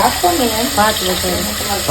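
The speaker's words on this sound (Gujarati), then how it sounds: "મમ્મી આ શેનો વઘાર કરો છો?" Spices tempering in hot oil for spiced rice, a loud close sizzle and crackle running throughout, with voices talking over it.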